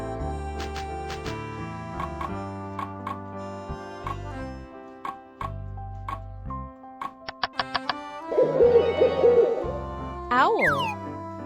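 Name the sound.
owl hooting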